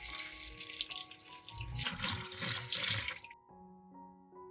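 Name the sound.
water pouring into a pot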